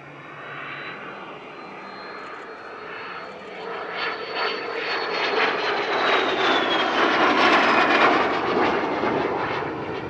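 A de Havilland Vampire FB6, a single-seat early British jet fighter-bomber, passes at an airshow, its steady jet roar swelling to a loud peak with a falling whine as it flies by, with no talking.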